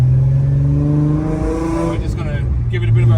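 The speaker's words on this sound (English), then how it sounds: "So this is it, guys, first drive," A Holden VY Calais drift car with a swapped L67 supercharged V6 idles and revs on its first drive with a cold engine, a steady low exhaust drone rising and easing, close up, with a voice talking over it.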